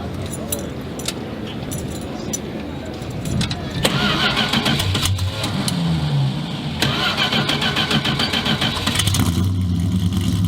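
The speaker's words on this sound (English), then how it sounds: "That's a real cold start." A 1971 Dodge Demon cranks over and fires on a cold start with the dumps open, catching abruptly into a loud, rough, lumpy idle that keeps running close by, with brief voices and faint jangling before it catches.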